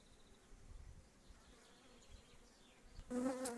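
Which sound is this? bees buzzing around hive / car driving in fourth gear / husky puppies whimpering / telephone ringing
bees buzzing around hive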